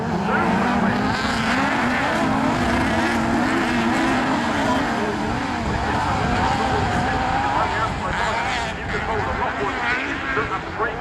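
Autograss racing cars at Castle Combe charging into the first corner: a loud, continuous, overlapping engine roar with shifting revs, with a commentator talking over it throughout.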